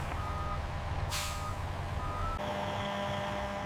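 Trucks pulling into a sweet potato collection depot and reversing, with a steady engine rumble, a brief hiss around the middle and a tone-like beep pattern continuing in the latter half.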